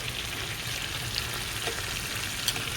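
Chicken pieces fry in a pan for fideo con pollo, a continuous close sizzle with small pops scattered through it and no voices.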